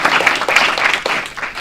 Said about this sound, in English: So just a huge round of applause to you